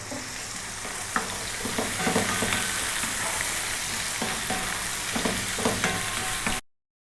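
Fish fries in a pan over medium-high heat with a steady, close sizzle and occasional stirring or scraping clicks, then cuts off abruptly at the end.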